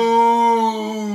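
A human voice imitates a dog's bark or howl, one sustained tonal, whining sound of about a second, loud and close.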